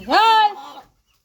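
A single short rooster call, loud and close, a rising then held tone that fades out within a second, followed by silence.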